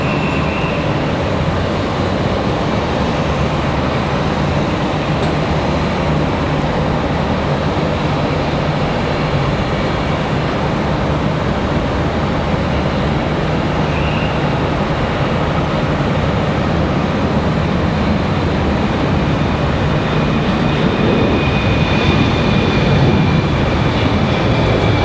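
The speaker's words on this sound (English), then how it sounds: "that E175 was creeping out. There it is." An Embraer E175 airliner on the runway at Raleigh-Durham airport during a stormy day gives a loud, steady engine roar that holds for the whole stretch, broad and unbroken, with no talk over it.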